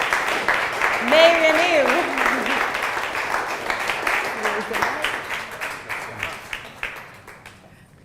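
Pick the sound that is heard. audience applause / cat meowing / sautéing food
audience applause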